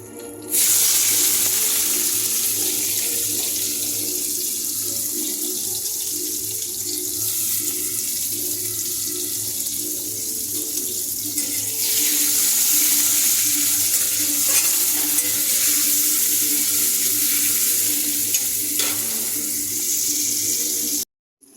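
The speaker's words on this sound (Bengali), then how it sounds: "এবারে আমি এই মশলাটার মধ্যে দিয়ে দিচ্ছি টমেটো" Tomato dropped into hot, scorched spice masala in a pan, a loud steady hiss of sizzling that carries on without pause for about twenty seconds before cutting off abruptly.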